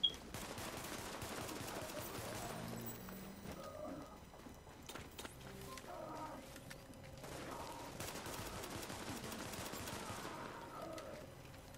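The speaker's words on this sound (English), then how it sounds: "Let there be fireworks." Rapid crackling bursts of fireworks pop continuously at a distance, dense and irregular, with faint voices now and then.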